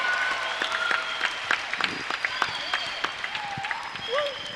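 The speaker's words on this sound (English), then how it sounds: "a round of applause coming in from the crowd" A crowd at the African Cup table tennis women's singles final applauds its champion, sustained clapping with scattered sharp claps while an announcer speaks over it.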